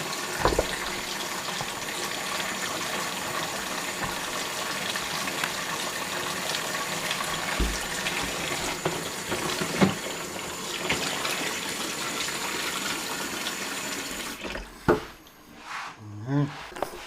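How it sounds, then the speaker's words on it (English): Cold tap water runs steadily over freshly cooked eggs in a kitchen, a continuous gushing stream from a faucet that cuts off near the end, followed by a few clatters. "So we just run some cold water on it."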